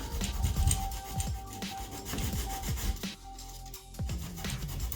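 Coarse 40-grit sandpaper worked by hand over an MDF and walnut cabinet, giving a close, continuous rasping scrub in rhythmic strokes with brief pauses, no voices.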